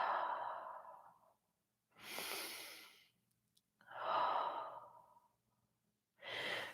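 Slow, deep breaths during a beginners' yoga flow: two long exhales alternating with two sharper inhales, close and clear with silent gaps between.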